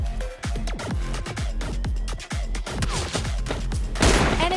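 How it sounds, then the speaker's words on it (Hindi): Gunfire rings out in a PUBG Mobile Lite match, including an M24 sniper rifle shot, as a rapid series of loud, close cracks followed by a louder burst near the end, with no talking. "आप M24 का शॉट देखिए"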